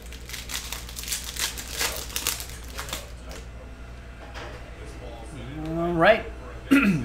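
Prizm NBA hobby trading card pack torn open and handled, with crinkly foil ripping and rustling at close range, followed by card shuffling under a background voice that talks throughout.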